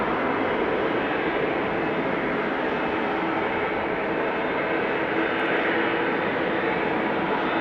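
Boeing 777 airliner taxiing at Amsterdam Schiphol Airport, a steady, loud engine roar and broadband rumble holding constant throughout without talk.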